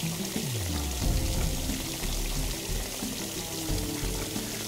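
In The Escapists video game, shower water runs and pours continuously, a loud, close splashing stream with no voices.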